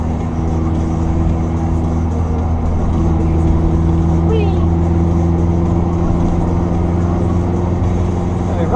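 A car engine drones steadily from inside the vehicle, a constant low hum with road rumble, loud and unbroken throughout.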